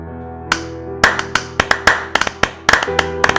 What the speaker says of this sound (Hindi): पूरा दरबार तालियों से गूंज उठा